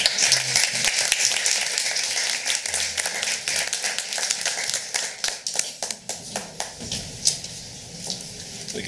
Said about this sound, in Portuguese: Queria que vocês aplaudissem o Cosmo Brunelli.